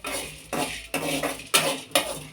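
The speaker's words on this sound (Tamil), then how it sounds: "கடலைப்பருப்பு கொஞ்சம் பொன்னிறமாக வறுத்து எடுத்துக்குங்க." Chana dal (Bengal gram) roasting golden in a pan, with a metal spoon scraping and stirring in five or six steady, rhythmic strokes, close and fairly quiet.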